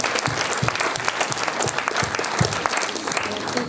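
An audience at an international crime film festival in Liège claps steadily and warmly, with many hands overlapping in a dense, even round of applause throughout.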